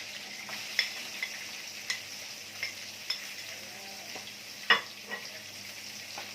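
Onions sautéing in a pan with browned meat, a soft steady sizzle under a series of sharp spatula clicks and scrapes against the pan at irregular intervals.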